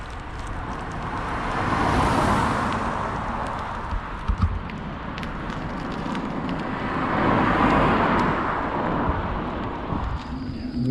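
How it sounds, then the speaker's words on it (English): Quarry machinery and heavy lorries working in open countryside make a broad, distant rumble that swells twice and then eases, steady and low with no voices over it. "I'm sure you can still hear the sounds of the quarry"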